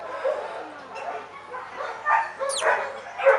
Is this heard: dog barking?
yes